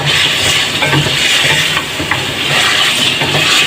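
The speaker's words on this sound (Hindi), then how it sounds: "अब इसके अंदर जो हमारा चिकन भून रहा है अदरक लहसुन के साथ" Steady sizzling and hissing of chicken frying with ginger and garlic over high heat in a hot pan, with occasional stirring clinks, loud and continuous throughout.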